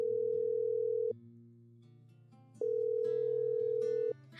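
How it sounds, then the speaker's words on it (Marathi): Ringback tone on an outgoing mobile phone call: two steady electronic tone bursts, each about a second long, separated by a quiet pause, clear and close with no voices. "अगदी दुसऱ्याच रिंगला त्याचा फोन रिसीव्ह झाला"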